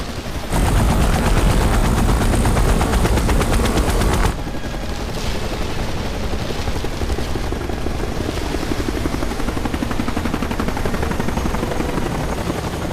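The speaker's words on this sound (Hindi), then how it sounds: "हेलीकॉप्टर नीचे लो।" Loud, steady helicopter rotor roar, very intense for the first few seconds and then continuing at a lower, even level with a rapid chopping pulse.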